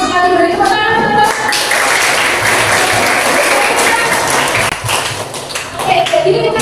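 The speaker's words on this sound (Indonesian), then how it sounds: "sekali beri tepuk tangan" Classroom audience at a teacher-training session in Malang, Indonesia, bursts into loud, dense clapping for several seconds, with a voice talking briefly at the start and end.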